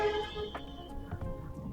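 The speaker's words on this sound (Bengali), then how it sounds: "উনি আমাকে হর্ন দিতেছে" A Hiace van behind a motorcycle on a monsoon road sounds its horn in a faint, brief tonal toot at the start. Light road and engine noise follow.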